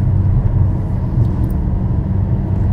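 A deep, steady engine and exhaust rumble from a BMW X6M sports SUV fills the clip, loud and close, with no voices.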